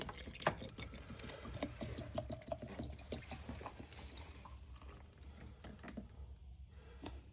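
A container is filled with water to soak okra and nopales, giving a quiet, continuous trickle and splash with small drips and plinks as the level rises, close by and without talk.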